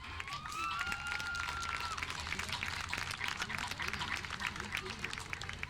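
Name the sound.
audience applause for parents at senior night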